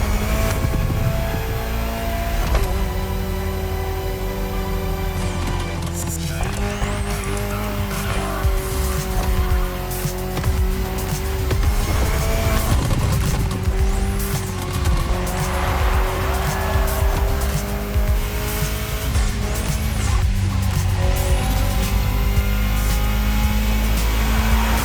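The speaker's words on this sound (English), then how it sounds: "Incredible to see this stunning concept car in action." An Alpine A110 concept car races in The Crew Motorfest video game, its engine droning loudly and steadily while the tires squeal and skid throughout.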